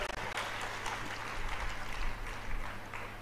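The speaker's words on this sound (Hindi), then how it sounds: "तालियां बड़ी कमजोर है" A live audience at a Shri Ram Katha religious discourse gives thin, fairly quiet clapping, scattered and soft, that carries on briefly without much energy.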